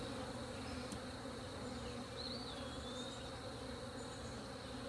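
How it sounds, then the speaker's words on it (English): Honey bees buzzing steadily around an open hive during installation of a new nuc, a dense continuous drone close by with no voices. "So they're starting to really come out and buzz around now."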